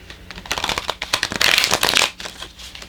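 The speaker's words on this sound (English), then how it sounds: "I'm going to go ahead and shuffle you guys' cards." Tarot cards are shuffled by hand in quick irregular riffles and slides, close and crisp, with a dense burst in the middle and no talking.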